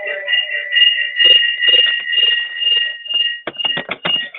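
A loud electronic alarm beeps steadily in repeated high tones, ending in a quick burst of sharp, rapid beeps.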